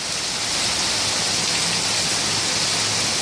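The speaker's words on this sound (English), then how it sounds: "Hard rain for the first time in probably 7 months." Hard, steady rain pours down in Miami, a dense unbroken hiss of heavy downpour close around, loud and continuous with no voices.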